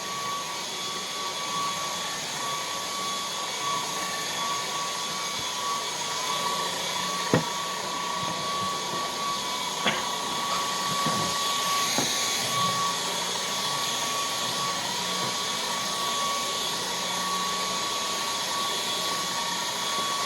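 A MOOSOO K17 cordless vacuum cleaner runs with a constant whining motor drone at steady volume, broken only by a few faint clicks.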